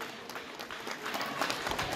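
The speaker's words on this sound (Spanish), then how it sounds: "¡Los aplausos!" Families at a school year-end closing ceremony applaud young musicians about to play sones and chilenas, a faint, somewhat distant patter of clapping from the crowd that swells slightly toward the end.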